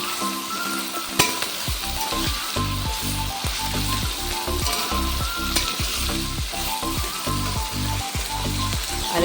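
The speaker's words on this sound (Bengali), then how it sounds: "ক্যাপসিকাম ভাজা হচ্ছে" Capsicum frying in a pan, a loud, steady close-up sizzle with a regular rhythm of scraping stirs and pan knocks running throughout, and no voices.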